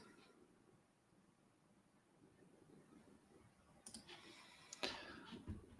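Mouse clicks while picking players in a fantasy football draft: a few soft, sharp clicks near the end over a quiet, low background.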